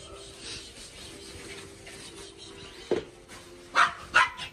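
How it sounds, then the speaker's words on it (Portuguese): A small female dog indoors at a home gives several sharp, yappy barks, one bark and then a quick pair close together, clear and near over a quiet room background. "Ah, Mel, cachorrinha."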